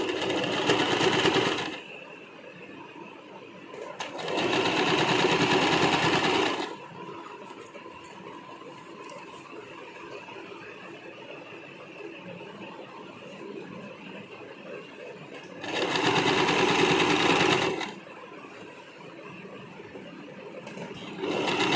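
A sewing machine stitches a sleeve hem in bursts, three loud whirring runs of about two seconds each separated by quiet pauses while the fabric is adjusted, close up with no talking.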